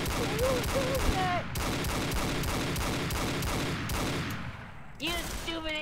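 Rapid bursts of gunfire crackle in a dense, loud volley from start to finish, with shouting voices cutting in over the shots.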